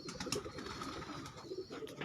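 Breeder pigeons coo softly and repeatedly inside a loft in Faisalabad, the low rolling calls faint but clear, with no one speaking.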